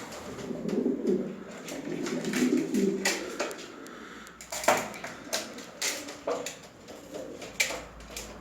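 A male pigeon coos in a courting display, a soft throaty rumble for the first few seconds, then a series of short, close coos and wing-flutter clicks at a moderate level, with no voices.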